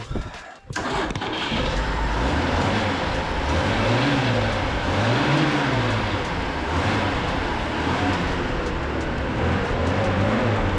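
A Lada Zhiguli car engine cranks and fires up, then runs steadily at a loud, rough idle with a rhythmic wavering throb, close by.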